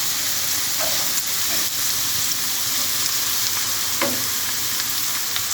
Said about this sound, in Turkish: Soğanı karamelize olana kadar kavuruyoruz.